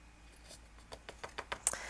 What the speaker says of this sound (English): I am going to be trimming it just with my scissors